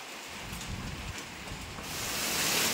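Rain falls steadily outdoors near a chili garden, a dense close hiss that swells louder toward the end, with no voices.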